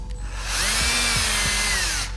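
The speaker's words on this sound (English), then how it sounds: "that is how I'm drilling the holes. Just match drilling." Power drill match drilling holes for an underwater camera housing part, a single high whirring run that spins up, holds steady with a few low thumps as the bit bites, then winds down.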